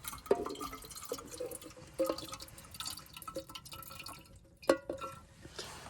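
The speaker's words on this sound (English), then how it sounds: "And then the water that I didn't use in the kettle. Just gonna go back in your bottle." Leftover kettle water poured back into a bottle at a solo wild camp, heard as scattered drips and small splashes with a few sharper glassy plinks, close and fairly quiet.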